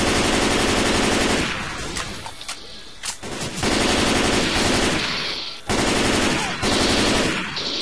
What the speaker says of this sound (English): Take up the assault rifle.